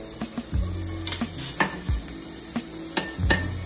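Onion frying in butter with garlic in a pan gives a close, lively sizzle broken by repeated spatula knocks and clinks against the metal pan.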